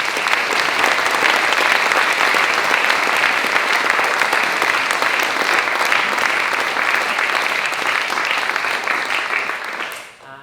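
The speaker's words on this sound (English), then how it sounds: "Can we give all of those people a big round of applause?" Sustained, dense audience applause fills the hall at a traditional folk music day, steady and loud for about ten seconds before tapering off at the end.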